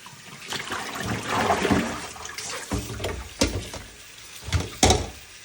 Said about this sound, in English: I'm going to let the water run into it